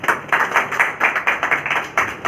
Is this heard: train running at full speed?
no